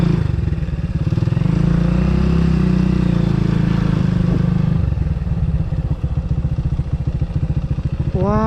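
A motorcycle idles and putters up close while being moved and parked, with clattering and a rev near the end, and no speech over it.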